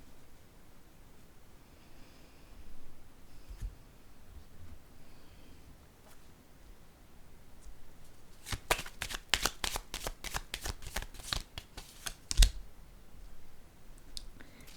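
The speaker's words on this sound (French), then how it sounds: "Ici, je vais piger une carte." Tarot cards are shuffled by hand in a quick run of crisp, riffling flicks and taps. The shuffling follows a quiet stretch with faint handling noises.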